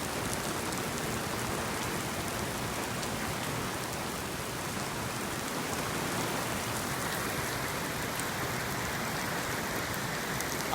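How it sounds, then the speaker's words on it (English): Heavy rain pours down steadily during a severe storm in Miami, Florida, a dense, even roar of drops on surfaces with no break. "Florida is very used to getting heavy rain like this"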